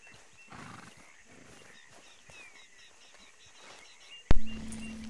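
A horse in the Red Dead Redemption 2 video game, with quiet hoof and movement sounds through most of the stretch before a sudden loud snort or whinny bursts out near the end.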